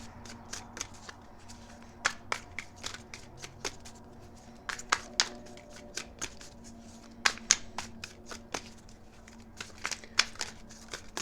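Tarot cards are shuffled and drawn by hand, giving a steady run of crisp riffling snaps and flicks at close range. The sharp bursts come in irregular clusters against a quiet background.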